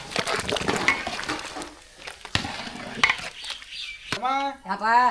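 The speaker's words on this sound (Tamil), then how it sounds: "நல்லா அரிசி பருப்போட கலந்து விட்டுக்கலாம்" Rice and lentils are stirred together in a large cooking pot of sambar rice for about 80 people, with busy scraping and clattering close up and a voice speaking near the end.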